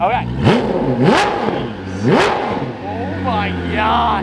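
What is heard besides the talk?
Koenigsegg supercar engine revving with factory exhaust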